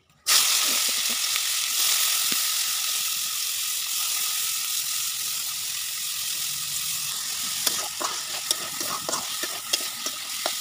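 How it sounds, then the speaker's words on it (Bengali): Vegetables dropped into hot oil burst into a loud sizzle at once, which holds steadily and close by, with stirring clatter and scrapes growing toward the end. "তেলটার ভিতরে এখন সবজিটা ছেড়ে দিচ্ছি।"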